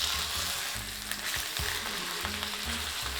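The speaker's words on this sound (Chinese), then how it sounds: "我们就可以转中小火，慢慢逼出它的鸭油来" Duck breast sizzles and fries steadily in a flat pan over medium-low heat as its fat renders out, a continuous close crackle with small pops and no talking.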